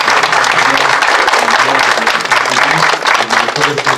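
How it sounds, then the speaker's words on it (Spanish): Loud, sustained applause from an audience at an official civil protection facility inauguration in Azcapotzalco, steady dense clapping throughout with faint voices mixed underneath. "quiero pedir un fuerte aplauso"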